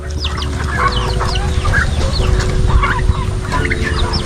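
A flock of chickens clucks and calls close by while being fed, a busy, continuous chorus of overlapping short cackles over a steady low background rumble.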